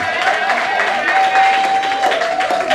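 An audience applauds at a stand-up comedy show, with steady clapping and crowd noise and a sustained tone running underneath.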